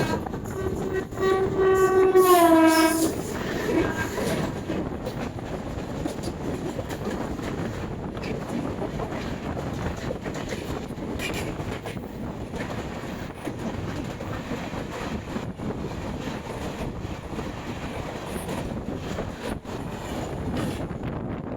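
A train horn blares briefly, then a heavy, steady rolling rumble of the Howrah Rajdhani Express rushing past close by, heard from a passing train, continues to the end.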